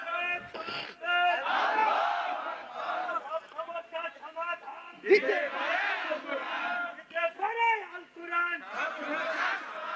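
A large crowd at an Islamic sermon gathering shouts takbir in unison, loud and chanted in repeated rising waves of many voices.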